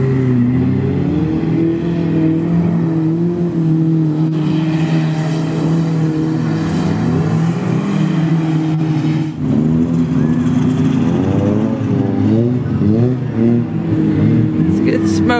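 Racing vehicles at a mud race roar and rev steadily and loud, engines rising and falling in pitch as they run together, with voices talking faintly underneath.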